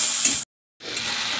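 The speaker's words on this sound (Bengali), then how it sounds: "ভালো করে মশলাটা কষে নেব।" Spices for an egg and masoor dal dish hiss steadily in a hot pan, close and bright, broken by a short silent gap before the frying noise resumes.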